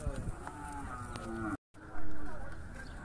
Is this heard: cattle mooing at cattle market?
yes